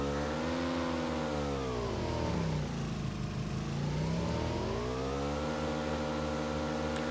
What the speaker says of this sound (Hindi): मैं यहाँ से गाड़ी लेके निकलने लगा हूँ।